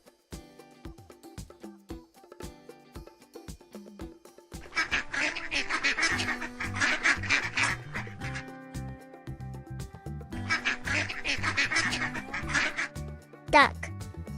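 A duck quacks in two long runs of rapid, loud quacking, separated by a short gap, over a soft musical backing.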